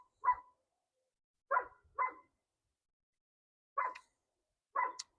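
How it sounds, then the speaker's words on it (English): A dog barks in five short, sharp bursts spaced irregularly across a quiet indoor background, fairly distant and with no talking over it. "Dog is killing me."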